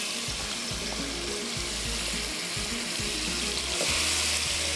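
Marinated chicken frying in a pan for Bihari chicken with rice, a dense continuous sizzle and watery hiss with irregular bubbling pops, close and fairly loud, with no speech.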